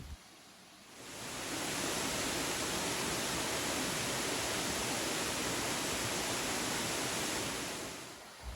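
A waterfall on Phuket island roars against rocks in a dense, steady rush that fades in after a second, holds constant, then tapers off near the end.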